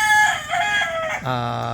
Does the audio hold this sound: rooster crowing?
yes